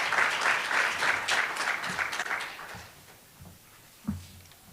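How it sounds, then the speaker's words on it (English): An audience at a university ceremony applauds as a professor walks up, steady clapping from a crowd that thins out and fades, leaving a few scattered claps and footsteps near the end. "Let's give him a round of applause as he comes up."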